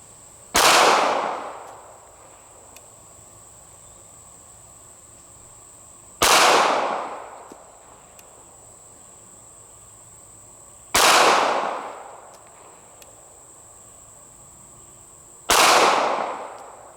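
Four sharp gunshots from a Ruger LCP2 pocket pistol chambered in .380, fired outdoors at a target several seconds apart, each a loud crack with a short decaying tail over a faint steady background hum.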